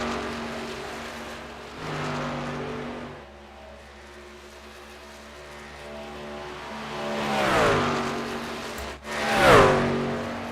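Race cars in a sim racing game, engines droning and swelling as they pass, with a loud revving, gear-shifting surge near the end; no voices.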